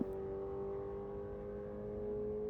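A BMW car accelerating down a drag strip, its engine note a steady, fairly faint drone held throughout as it pulls away, with no talk over it.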